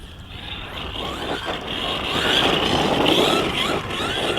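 A Kyosho Mad Van VE 1/10 electric RC monster truck running on 2S drives nearby, its motor whining steadily with rising and falling pitch as it speeds over rough ground.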